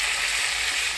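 Ground spice paste sizzles hard in hot oil in a pan, a loud, steady, close hiss of frying that fills the whole moment without a break.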